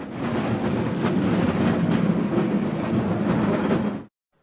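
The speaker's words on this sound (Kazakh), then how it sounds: "Трамвай." A tram rolls past on rails, loud and close, with a dense rumble and rhythmic clicking wheel beats for about four seconds before it ends sharply.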